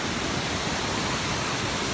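Bells Canyon's lower waterfall roars right up close from its top, a dense, constant rush of white water that fills everything, with no talking.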